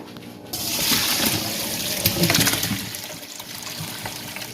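Tap water running into a cooking pot as it is rinsed out before making Nigerian pepper soup, a steady splashing flow that starts after a brief pause and stays loud and close.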